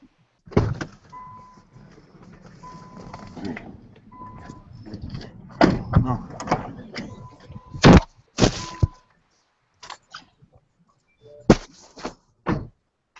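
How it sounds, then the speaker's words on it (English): A car door opens and shuts, giving a series of sharp thuds and clicks along with a faint repeating chime tone, heard fairly close inside the car. "we can hear your car door"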